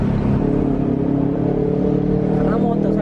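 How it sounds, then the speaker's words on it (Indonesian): A loud motorbike engine drones and rumbles steadily at close range for the whole stretch, with a voice faintly mixed in. "Karena motor sampai gini ribut."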